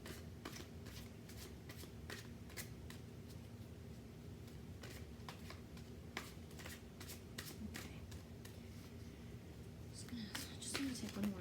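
Tarot cards being shuffled by hand, a steady run of soft riffling and slapping strokes that keeps going for the whole stretch, close and quiet, with a little handling and movement near the end.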